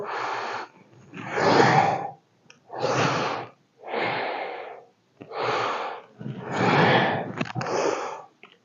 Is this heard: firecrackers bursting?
no